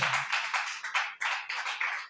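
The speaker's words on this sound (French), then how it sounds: "Applaudis pour le Seigneur" A congregation at a French-speaking evangelical church service claps for the Lord in a steady, rhythmic beat, loud and close, with no talking over the claps.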